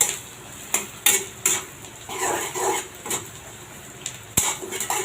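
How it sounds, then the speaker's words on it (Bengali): Whole garam masala spices being stirred in a pot for mutton rezala, with a metal spoon scraping and clinking against the pan in irregular strokes over a light sizzle, close and fairly loud. "এখন ভালো করে নাড়তে থাকবো"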